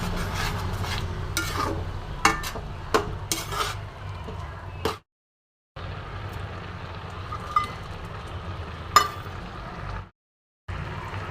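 A spoon stirs milk and bottle gourd curry in a metal pan, scraping and clinking in an irregular rhythm with occasional sharper taps, close up and fairly steady, with two brief silent gaps.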